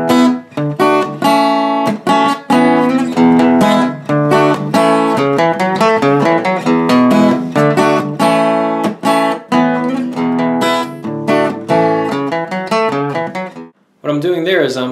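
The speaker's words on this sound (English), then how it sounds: "The rhythm guitar part adds some cool little lines during the fade out of the song." Rhythm guitar plays busy little fills and strummed chords from the fade-out of the song, a dense, loud, continuous run of picked notes that stops abruptly near the end.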